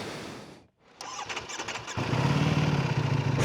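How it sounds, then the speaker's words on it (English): A 2026 Ducati Panigale V4 superbike fires up by its electric starter: a brief cranking whir, a short churn, then the engine catches into a loud, close, grumbly idle. "Thumb the Ducati electronic starter to life."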